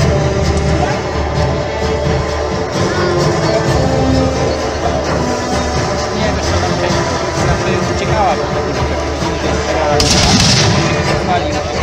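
Cannon and musket fire ring out at a 17th-century battle reenactment with Polish hussars, scattered booms and cracks over a constant outdoor din, mixed beneath narration, with one louder blast near the end.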